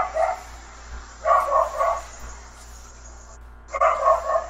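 A dog barks in short bursts, several sharp yaps in clusters at moderate distance, over a steady low hum, with no talk.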